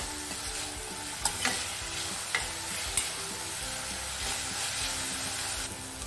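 Chopped tomatoes and green chillies frying on a low flame, a constant soft sizzling hiss with a few sharp stirring clicks, close and even throughout, no speech.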